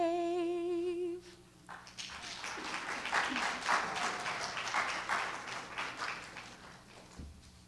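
Audience applause breaks out at a Veterans Day ceremony after the national anthem, a dense steady wash of many hands clapping that follows the singer's last held notes and fades out near the end.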